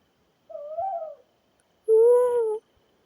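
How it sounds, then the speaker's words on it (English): Two clear owl hoots at dusk in a garden, a softer wavering call followed by a louder, longer steady one, close and alone in a quiet evening. "And now it's dusk time, and I can hear the owls."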